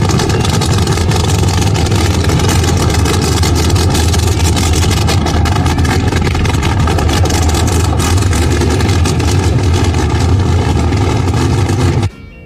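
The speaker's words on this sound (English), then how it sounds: "my car behind me is a 1955 Thunderbird powered on nitromethane" A 1955 Thunderbird nostalgia drag car burning nitromethane runs close by, a loud, rough, continuous engine roar holding steady for about twelve seconds before cutting off abruptly.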